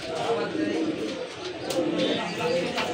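A pigeon coos softly in a repeating pattern, close by, with someone talking over it throughout.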